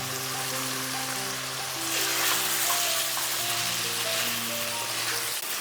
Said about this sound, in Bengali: এবার দিয়ে দিচ্ছি ভেজে রাখা সবজিগুলো